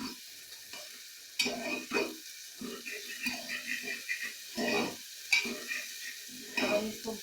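Ginger garlic paste frying over high flame in a pan for tinda curry, soft sizzling broken by intermittent stirring scrapes and clinks of a utensil against the pan, moderately quiet with gaps between strokes.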